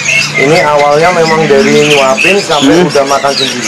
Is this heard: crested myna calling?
yes